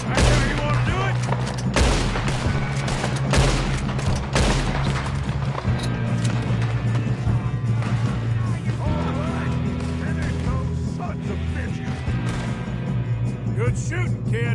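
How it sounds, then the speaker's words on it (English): Gunfire in a Western shootout from the video game Red Dead Redemption 2: rapid, overlapping rifle and pistol shots crackle throughout over a rumbling background, with voices talking at points. "Good shooting, kid."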